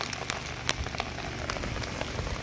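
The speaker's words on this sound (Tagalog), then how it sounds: "Ulan na." Rain falls steadily on a surface, a dense close patter of drops with occasional sharper splashes, continuous and even with no one speaking.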